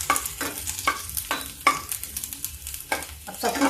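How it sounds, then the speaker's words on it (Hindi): Cumin, mustard, fenugreek and asafoetida seeds crackle in hot oil for an eggplant bharta tempering, with sharp popping bursts at roughly half-second intervals over a steady sizzle, close and fairly loud, with no talking. "अब सब कुछ तड़क गया है।"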